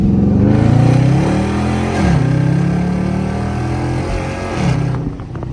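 A Dodge Charger R/T engine revs up and drops back repeatedly as the car accelerates on a late-night drive, pitch climbing and falling in steady waves, loud and close with no talking.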